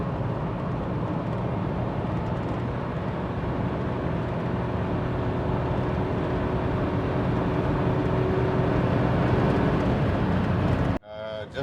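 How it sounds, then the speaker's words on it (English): A car in top gear labours up a steep incline at around 70, its engine a dense, steady drone heard close and loud throughout before cutting off abruptly at the end. "Just can't pull top gear up this incline."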